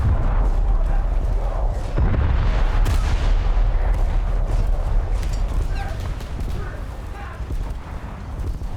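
Naval guns fire in the War Thunder naval battle, giving heavy rumbling booms and continuous dense blasts that fill the scene, with a voice talking over them.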